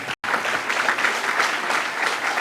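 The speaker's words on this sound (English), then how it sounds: "Give her a nice round of applause." A dinner audience claps in a dense, sustained round of applause, loud and close, filling the room without pause.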